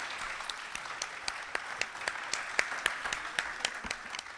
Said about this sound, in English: I also want to give a round of applause to the candidates for being in the hot seat tonight.